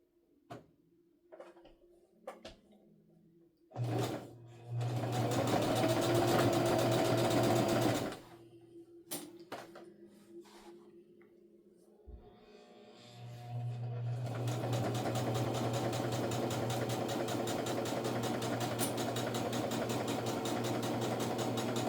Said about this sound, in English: I'm just gonna stitch all the way down this edge here.